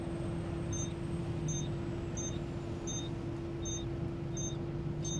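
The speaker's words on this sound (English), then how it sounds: "It's an engine warning alarm." A truck's engine warning alarm beeps in a steady series of short, evenly spaced double-toned beeps, roughly one every 0.75 seconds, over a constant low engine drone inside the cab.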